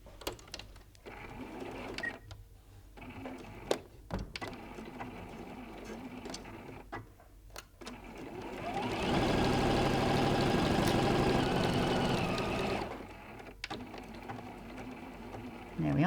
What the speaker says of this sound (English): You're going to sew down those 2 sides